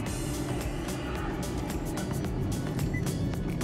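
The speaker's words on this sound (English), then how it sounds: "we are on our way to Yarra Valley, and Catherine is driving." A car driving on a road toward the Yarra Valley gives a steady low engine and tyre rumble from inside the cabin, with no break.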